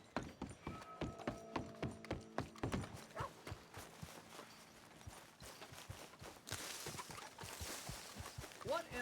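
Horse hooves clop in Red Dead Redemption 2, a brisk run of close, sharp footfalls that slows and then picks up again, with game voices speaking over part of it.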